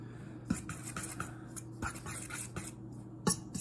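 A utensil scrapes and taps against a bowl while pie crust dough of flour, salt and butter is mixed, with soft irregular clicks and knocks over a steady low hum.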